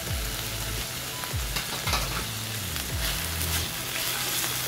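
Manathakkali spinach and grated coconut stir-fry in oil, a bright close sizzle with repeated scraping thumps from stirring, and no voices.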